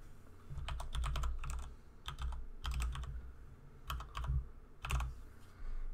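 Keys clatter on a computer keyboard as a Wi-Fi network name is entered, arriving in quick bursts of several close, soft clicks separated by short pauses, over a low background hum.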